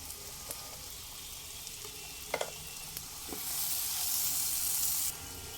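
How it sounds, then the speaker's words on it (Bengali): Spice paste fries in a pan with a splash of water over medium flame, a steady sizzle punctuated by a few sharp spoon scrapes, then swelling into a louder hiss for a couple of seconds before dropping back. "অল্প অল্প করে জল দিয়ে প্রায় সাত থেকে আট মিনিট মশলাটা খুব ভালোভাবে কষিয়ে নেব"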